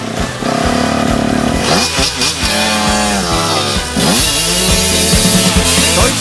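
A small engine, probably a motorcycle or similar machine, keeps running loud and close with a steady throb. It revs and shifts pitch repeatedly across the stretch, and nobody speaks.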